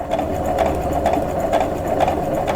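A sewing machine stitches a pinwheel quilt block made from half-square triangles, running as a steady, close, continuous whirring hum with no pauses.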